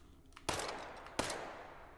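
Two sharp gunshots ring out in the VR shooting game Hot Dogs, Horseshoes & Hand Grenades, each with a short decaying tail, and a third shot begins right at the end.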